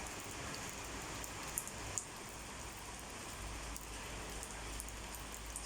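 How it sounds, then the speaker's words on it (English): Steady rain falls around a villa in the UAE on New Year's Day, a soft, even hiss of drops on surfaces with a couple of faint closer taps, quiet and continuous with no talking. "It's January 1 and it is raining here in the villa."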